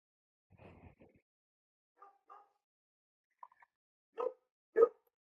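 A dog in the VR game Animal Company gives a few short barks and yips, spaced out and growing louder toward the end, following a brief burst of quiet chatter.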